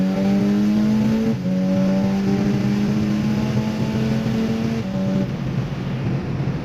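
A Toyota Fortuner driving at high speed on a road trip, a steady loud engine drone holding one pitch, dipping briefly as the gear or throttle shifts, with constant road and wind roar and no voices.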